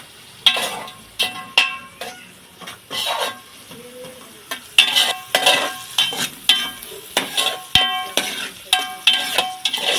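Salt is mixed into a chikkudukaya (flat bean) curry in a pan. A spoon stirs and clanks rhythmically against the metal, sharp close scrapes repeating over a light sizzle, with no talking.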